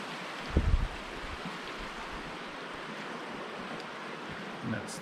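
The West Kettle River flows beneath a bridge as a steady, broad rushing wash of water, heard from close above, with a brief low thump near the start.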